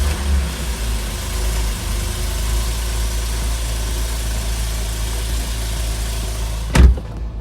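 A 2013 Porsche 911 of the 991 generation with PDK transmission idles with a steady low engine rumble, ending in a sharp loud thump near the close.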